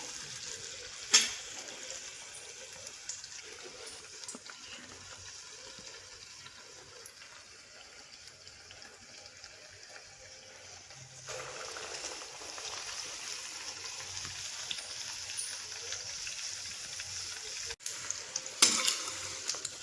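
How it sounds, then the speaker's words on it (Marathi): Batter-coated vadas frying in hot oil, a steady soft sizzle running the whole time with a brief splash of crackle near the start and a louder, busier stretch in the second half. "हे वडे मिक्स पिठामध्ये घालून सगळीकडनं कोट झाले पाहिजे चांगल्या प्रकारे, आणि असं घेऊन तेलामध्ये सोडून द्यायचं"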